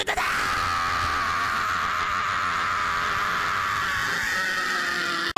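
A man gives a long, loud, sustained scream imitating streamer Tyler1, a strained raw yell held for about five seconds, close to the microphone and unbroken.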